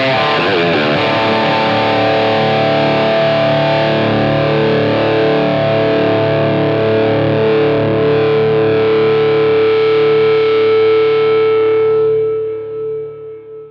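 A distorted electric guitar, run through a modeling device into a Line 6 Powercab 212 Plus cabinet, sounds one loud chord with rich effects and chorus. It sustains for about twelve seconds, then cuts off.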